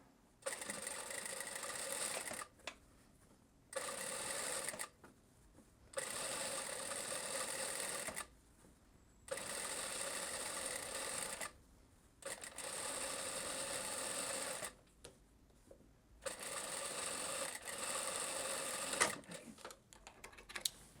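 A sewing machine runs a narrow folded hem on a blouse in repeated bursts of a few seconds each, separated by short quiet pauses, close and steady with no talking.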